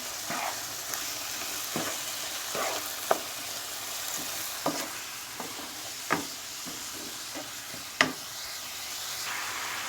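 Village bulgur being stirred and roasted in a pan, a soft continuous sizzle broken by repeated scraping stir strokes at irregular intervals, close and moderately loud.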